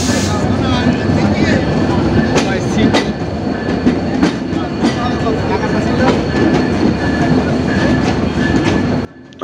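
An express train pulls into Jessore station in Bangladesh with a loud, steady rumble, rhythmic wheel clatter and sharp metallic clicks running through the whole stretch before it suddenly drops away.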